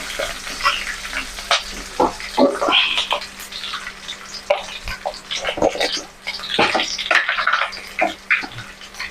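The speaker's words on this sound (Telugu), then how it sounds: "ఇప్పుడైతే ఉల్లిపాయలు పచ్చిమిర్చి కొంచెం కరివేపాకు వేసాను" Onions, green chilies and curry leaves fry in a pan with close, crackling sizzles and intermittent stirring scrapes over a light background hum, with no speech.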